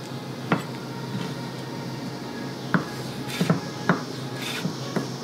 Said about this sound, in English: we want to take our kaffir lime leaf and just cut it into thin strips